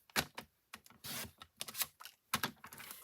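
Paper for a folded card is cut in short crisp bursts, a series of close snips and slicing strokes with brief pauses between them, no voices.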